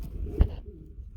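A male Lahori pigeon gives a brief, low, soft coo close by, with a small thump partway through against a quiet background.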